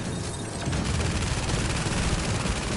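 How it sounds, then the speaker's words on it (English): An AA gun turret in The Division fires a dense, rapid, unbroken barrage, loud and close, with no voices over it. "Whatever turret that is an AA gun."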